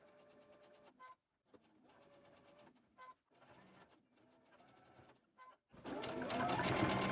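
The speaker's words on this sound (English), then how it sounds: "let's go ahead and chain stitch these all together" A sewing machine chain stitching quilt blocks runs in short bursts of rapid mechanical stitching, separated by brief pauses, fairly close and quiet, with a louder rustle of fabric handling at the end.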